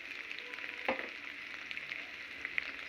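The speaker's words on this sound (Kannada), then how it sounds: "ಇವಾಗ ನಾನು ಸಣ್ಣದಾಗಿ ಹೆಚ್ಚಿಟ್ಕೊಂಡಿರೋವಂಥ ಆನಿಯನ್ನ ಹಾಕಿ ನಾನು ಫ್ರೈ ಮಾಡ್ತಾ ಇದ್ದೀನಿ." Chopped onions frying in hot oil with mustard seeds for a winter garlic chutney give a steady close sizzle, with a sharp pop near the start and a few small spits later.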